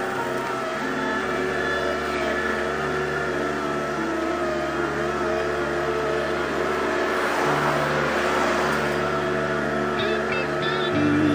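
Steady engine drone of cars on a mountain road near Gavarnie, heard close by from a mountain bike, with a vehicle swelling louder partway through; faint voices occasionally mix in.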